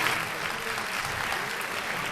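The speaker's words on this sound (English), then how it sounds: "We got some clapping here." A podcast event audience claps steadily, a dense even patter of many hands that fills the moment without a break.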